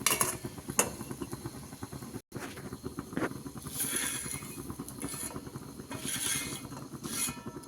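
Metal pots and utensils clatter and clink up close in a home kitchen as food is scooped into a vessel, with intermittent sharp metallic knocks over a low background hum.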